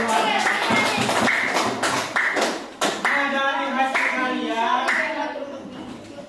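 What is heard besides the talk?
classroom applause for a group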